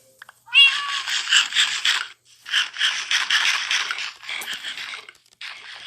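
Cat in the Minecraft video game meowing repeatedly, a series of loud, close meows with short pauses between them.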